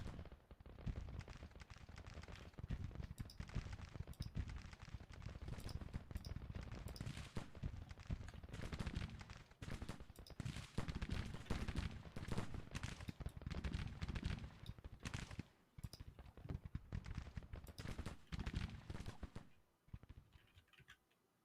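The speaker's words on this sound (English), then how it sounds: "Running right into Hamilton's infantry and rifles." Infantry rifle fire in the Civil War strategy game Grand Tactician: dense, rolling volleys of gunshots crackling almost continuously at a distance, with brief lulls, and no talking over it.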